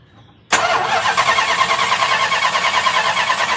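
Ignition key turns on a 1967 Imperial Le Baron during ballast testing, and the engine catches with a sudden loud start after a short quiet moment, then settles into a steady, rough idle close by.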